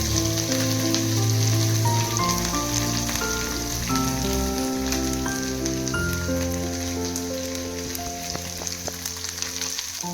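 Dry fish fries in a pan, village style, giving a continuous crackling sizzle that runs under a loud background melody.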